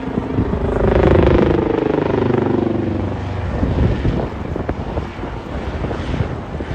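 A Royal Navy Wildcat maritime helicopter flies at the Eastbourne International Airshow, a loud rotor thrum and turbine whine passing overhead, with heavy wind buffeting the microphone throughout.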